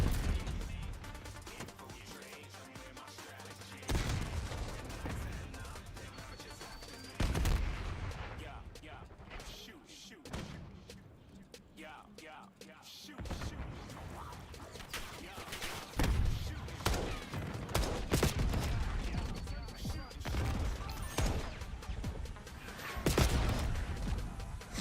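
Gunfire in a Call of Duty match, with repeated bursts of shots and heavy impacts recurring across the clip, close and loud, with a voice talking now and then over the action.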